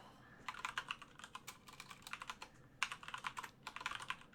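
Quiet, rapid keystrokes tap on a computer keyboard in two quick bursts separated by a brief pause, close to the listener with no voice.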